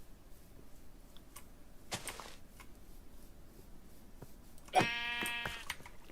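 A single short video game sheep bleat near the end, fairly clear, after quiet background with a few faint clicks.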